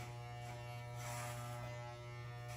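Electric hair clippers with a number 4 guard running during a boy's haircut, a steady close-up buzzing drone with a faint shift in tone as it moves through the hair.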